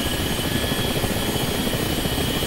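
Ka-50 helicopter in the DCS flight simulator, its rotor and turbine engine roaring steadily as power builds, a dense constant whine and thrum with no speech.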